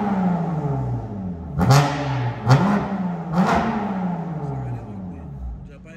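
A BMW M3 F80 stage 2 tuned with exhaust valves open revs three times in quick succession, each blip rising sharply then falling back to a loud rumbling idle, close by.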